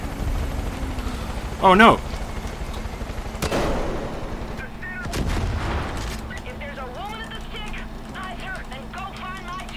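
Far Cry 5 gunfire sounds as several sharp shots and bursts spread through the clip among game noise, while a player talks and exclaims over them.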